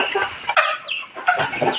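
A few short, close clucks and throaty calls from a three-month-old rooster in quick succession, loud and alone without speech.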